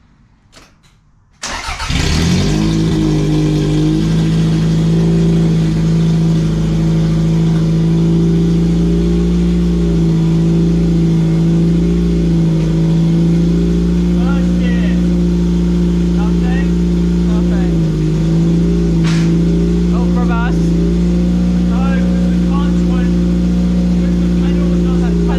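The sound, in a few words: car engine starting and running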